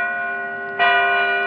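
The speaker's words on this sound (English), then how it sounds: "that is the sound of church bells" Church bells ring with a sustained metallic hum, and a fresh clear strike lands partway through, sounding fairly close and alone.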